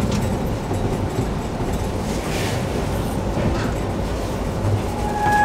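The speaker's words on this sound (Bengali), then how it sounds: "দেখতেই পাচ্ছ ট্রেন রাইট টাইমে ঢুকে পড়েছে শিয়ালদা স্টেশন।" The Darjeeling Mail pulling into Sealdah station: a loud, steady rumble of rolling coaches with faint rail clatter runs throughout, close and continuous, with a brief squeal of wheels near the end.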